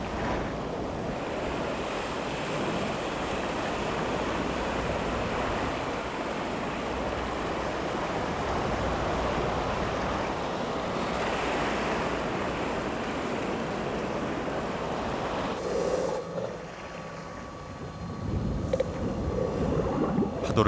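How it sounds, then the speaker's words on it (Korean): Heavy ocean surf surges through a sandbar at a lagoon mouth on the East Sea coast, a loud, continuous roar of crashing, rushing water with wind buffeting the microphone. "거센 힘으로 밀어닥친 파도는 석호의 하구지대 모래톱을 일시에 무너뜨리고 석호로 들어온다."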